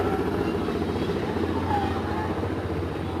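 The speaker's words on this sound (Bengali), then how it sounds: "গাড়ি যাওয়ার কারণে এমন শব্দ হয়েছে আর কি।" A vehicle passes along a village road, its engine a steady low rumbling drone that holds through the moment while a voice speaks faintly underneath.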